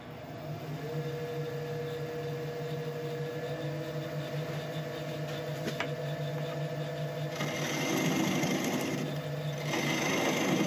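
A woodturning tool being sharpened on a motor-driven grinder, a steady humming whir throughout with a harsher grinding rasp swelling in over the last few seconds, close by and without talk.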